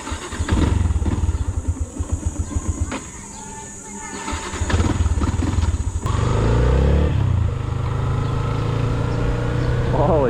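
A motorcycle engine revving close by in pulsing bursts, dropping back, then rising again into a loud steady drone, with voices talking over parts of it.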